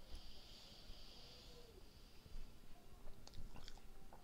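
Someone chews a bite of Philly cheesesteak from Max's Steaks: soft, moist, close-up mastication and small crunchy bites, quiet and steady, with faint room noise and no speech.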